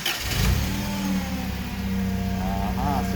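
Toyota engine cranking and catching, a loud rumbling engine sound that surges then holds a steady rough hum, close by with a faint voice near the end.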